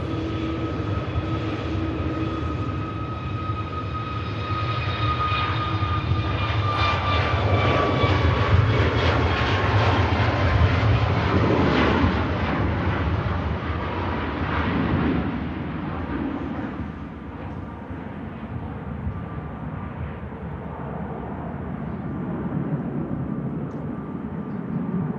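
A Boeing 787 Dreamliner, ten years old, departs Manchester Airport on a long-haul route to Phuket, its jet engines roaring loudly and steadily with a rising and falling whine that fades slightly toward the end.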